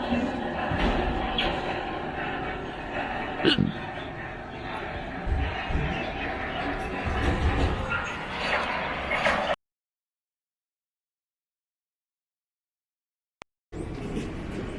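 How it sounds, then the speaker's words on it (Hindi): Lucknow Barauni Express pulling out of Budhwal Junction, heard from inside the coach: a rumbling rolling noise with occasional clanks and voices, cutting to silence for several seconds before the rumble resumes. "ट्रेन अब बुड़वल जंक्शन से निकल रही है।"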